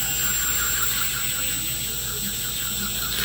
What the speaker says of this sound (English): we're going to start by drilling